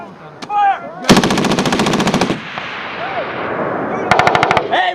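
A Marine Corps machine gun section at a 29 Palms range fires rapid 10 to 12 round bursts, two loud close rattling strings separated by a pause, with shouted commands between them.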